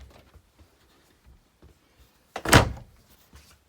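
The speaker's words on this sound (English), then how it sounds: "Pocket door to separate the rooms" A pocket door in a 1999 Monaco La Palma motorhome slides between rooms, heard as one short, loud rolling thump with quieter handling sounds before and after.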